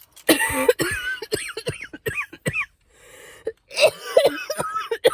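A person coughs several times in short bursts, mixed with throat-clearing and breathy hacking, close to the microphone.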